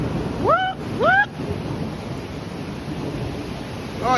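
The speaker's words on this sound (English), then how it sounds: "Oh, it's hailing! It's hailing!" Hail and rain pour down in a severe Midtown Manhattan thunderstorm, a dense steady hiss beneath short excited shouts from people nearby.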